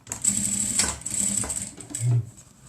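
A sewing machine runs in short backstitching bursts through a cotton face mask, its fast close mechanical whir stopping and restarting several times.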